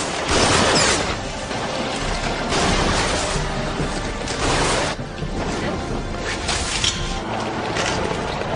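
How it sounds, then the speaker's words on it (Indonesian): Gunfire from a zombie-hunting action film: dense, continuous bursts of shots and clattering impacts, loud and close, with mechanical clanks mixed in and little speech. "dari belakang Reiko datang menembak zombie-zombie itu"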